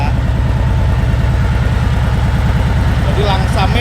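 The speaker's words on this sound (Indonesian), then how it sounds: "ini Milwaukee 8 guys, jadi suaranya adem ayem" Harley-Davidson Milwaukee 8 V-twin with a 2-into-2 aftermarket exhaust idling close by, a steady, deep, loping pulse, while someone speaks over it near the end.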